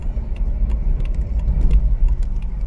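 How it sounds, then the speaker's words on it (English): A car drives at moderate speed and merges into road traffic, a steady low rumble from inside the cabin with faint passing vehicle noise and a few light clicks. "I get to merge into stupid traffic"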